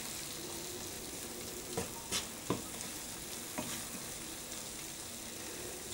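Onions and zucchini are stirred in a pan with the heat just cut, giving a faint steady sizzle with a few soft scrapes and knocks of the utensil scattered through it.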